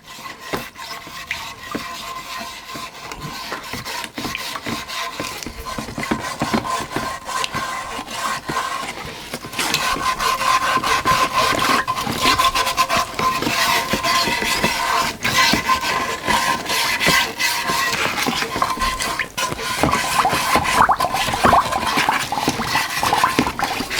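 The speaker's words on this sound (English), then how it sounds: "Right, so I'm going to give it a good scrub. This is just a cheapo brass wire brush." A cheap brass wire brush scrubs a metal part of a scratch-built oscillating model steam engine. The scrubbing is a continuous, close, rhythmic rasping that grows louder and more vigorous partway through.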